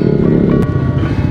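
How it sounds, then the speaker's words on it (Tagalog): A motorcycle with a loud open-pipe exhaust rumbles close by on a night ride toward Buscalan in Kalinga, a steady low roar with wind buffeting the microphone. "maririnig mo yung ingay ng tambutso kasi naka-open pipe siya eh"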